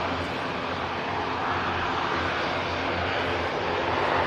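An ATR turboprop airliner landing at Manchester Airport produces a steady, broad engine roar with a low propeller drone, heard from a distance and swelling slightly, with no voices.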